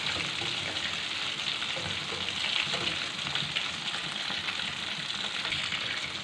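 Chicken pieces for crispy fried chicken broast frying in hot oil, giving a steady, dense sizzling hiss that stays loud and even throughout with no talking.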